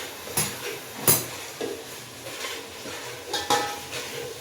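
Potatoes go into a pot of vegetable paneer biryani with chilies, giving a few soft stirring scrapes and light utensil clinks over a faint sizzle, close and quiet.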